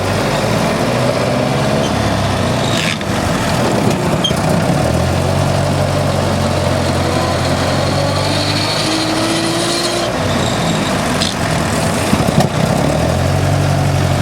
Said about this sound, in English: Dodge gearbox is notoriously noisy in second gear.